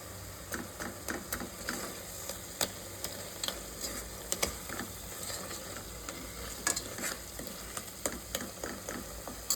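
Tomatoes cook down in a pan for a crab soup, or crab rasam, with a soft, quiet sizzle and a steady sprinkle of small stirring ticks and clicks.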